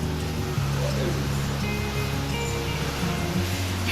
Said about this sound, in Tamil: மழையை பார்த்துக்கேன்.